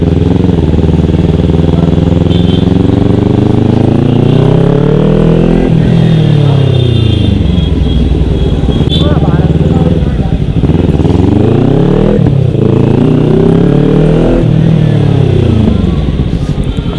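Motorcycle engine from an on-board ride through a village, steady loud engine drone with rising and falling revs and gear shifts throughout, while a rider talks over it.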